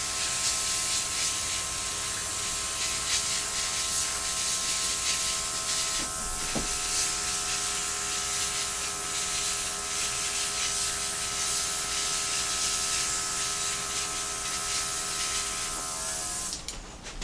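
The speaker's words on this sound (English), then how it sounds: "Grab my little air compressor. I'm just going to blow it out right off the top maybe." A small air compressor blows air over acrylic-poured dollar store ornaments, giving a continuous loud hiss with a steady motor hum under it that stops abruptly at the end.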